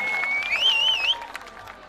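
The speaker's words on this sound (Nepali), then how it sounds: "कृपया सभ्य दर्शकहरू आफ्नो लागि ताली बजाइदिनुहोस् न एकपल्ट" Audience clapping at a Dashain festival stage program, a brief burst of scattered applause with a shrill whistle rising and wavering over the crowd.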